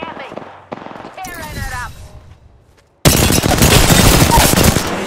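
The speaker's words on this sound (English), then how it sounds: "He's shooting at me." Gunfire in the Apex Legends video game comes as a few sharp shots and short bursts, then a loud, dense volley of rapid fire that lasts to the end, close and heavy, with game voice lines at the start.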